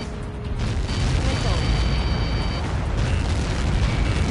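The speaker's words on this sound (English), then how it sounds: "How many got caught in that explosion?" Huge explosion in the flight combat game Ace Combat 7: Skies Unknown, mission 19, a loud, sustained roaring rumble that fills the whole stretch with dense, churning blast noise.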